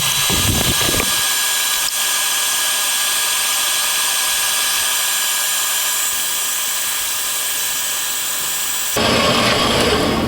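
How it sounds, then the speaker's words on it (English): A Harbor Freight metal band saw cuts through metal with a steady, loud broadband whine and grinding that runs throughout, with a brief change in tone near the end as the cut nears completion. "let's watch it cut and see if it does what it's supposed to do."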